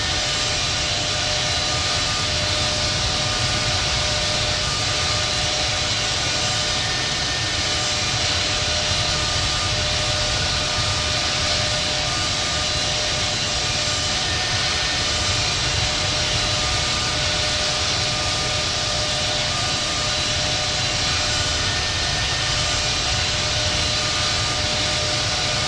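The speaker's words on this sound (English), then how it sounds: "Banjo 10 is taking off runway 25 right" A Boeing 777-200 in the Infinite Flight simulator takes off from LAX, a steady broadband jet engine roar holding loud and even throughout with no talk over it.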